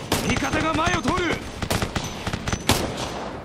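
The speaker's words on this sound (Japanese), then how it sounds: "制圧射撃をしている。" Rapid bursts of suppressive rifle and machine-gun fire crackle in Operation Flashpoint: Resistance, dense and loud at first and then scattered, while a radio-style voice speaks over the shooting.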